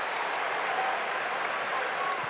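A Bearcats basketball arena crowd cheers and claps as a steady, dense roar during a Cincinnati versus Dayton college game, with a commentator talking over it.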